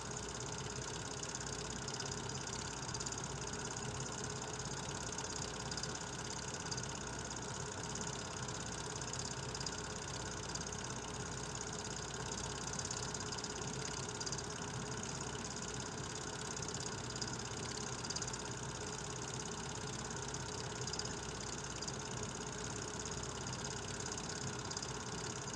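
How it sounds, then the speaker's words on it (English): L&N 152, a steam locomotive being exercised by its crew near a museum in Louisville, Kentucky, gives off a constant, moderately distant engine rumble and hiss that stays even and unbroken throughout. "And they're exercising the engine, the crew is."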